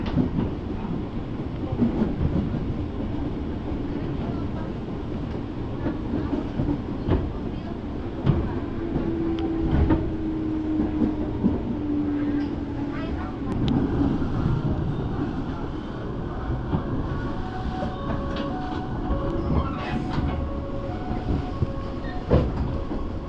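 A KRL commuter train between Cikarang and Rangkasbitung rumbles steadily nearby with a low, continuous roar and faint rhythmic clatter, a brief rising tone in the middle and soft chimes near the end.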